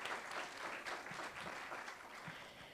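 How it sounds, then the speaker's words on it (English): Audience applause at a summit event, a steady, even patter of many hands clapping, fairly faint and continuous. "Let's give them a round of applause,"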